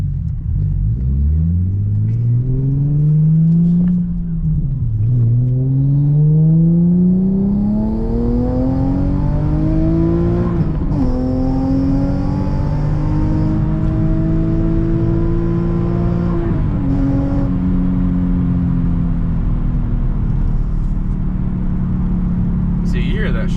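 Car fitted with a custom single exit exhaust accelerating hard from a red light through the gears, a deep rumble climbing in pitch with each gear change and shifting at brief breaks, close and loud.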